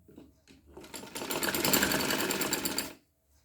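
A sewing machine stitches dori piping onto a kameez. A quick rapid run of needle clatter builds into a steady close mechanical whir that lasts about two seconds and then stops abruptly.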